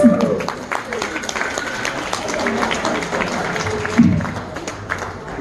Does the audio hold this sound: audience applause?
yes